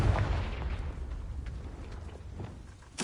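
Repeated explosive blasts of the Confringo spell in Hogwarts Legacy on PS5, a booming burst at the start followed by lighter pops and a fresh loud hit at the end.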